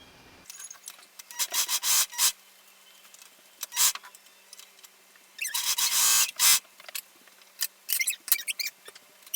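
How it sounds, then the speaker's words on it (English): A serger joins the shoulder and side seams of a Cleopatra costume in short, rapid whirring bursts separated by gaps, close and moderately loud, with no voices. "now I'm going to use my serger to sew the shoulder lines and"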